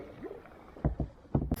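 Kayak paddle strokes dipping into the water on the River Shannon, a few close splashy pulls in an irregular rhythm with a faint earlier swish, no talking.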